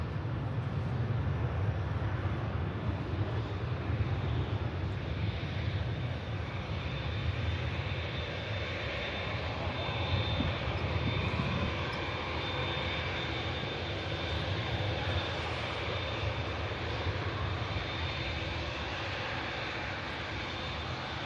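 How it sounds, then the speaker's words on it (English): A Ryanair Boeing 737-800 rolls for departure at Manchester Airport, its engines producing a sustained broad jet roar heard from a moderate distance, steady throughout with no voices. "Probably the last departure of 2-3 left now as well, rolling. It's a Ryanair 737-800 series."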